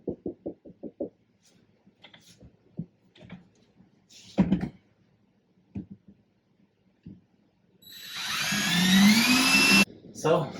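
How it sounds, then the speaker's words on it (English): A drill driving screws into an upper kitchen cabinet during installation: a few sharp knocks and short bursts early on, then a loud sustained whirring drive near the end that stops abruptly. "I'll put 1 or 2 more screws in and we should be good."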